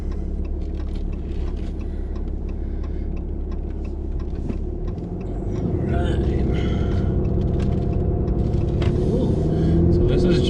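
Ram 2500 diesel pickup towing a travel trailer accelerates up to highway speed, a steady heavy rumble from inside the cab that swells louder midway, with road noise and faint rattles.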